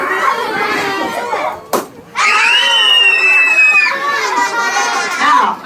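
A class of young children at a bilingual primary school bursts into loud, sustained screaming right after a sharp balloon pop, the shrieks rising and falling together and filling the room.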